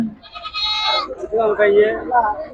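Goats bleat loudly and repeatedly close by at a livestock market in Gudur, their wavering cries overlapping with background voices.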